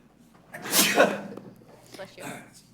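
A single loud, sharp sneeze during a civil service commission meeting, close to the microphone, followed by softer breathy sounds and a brief murmur of voices.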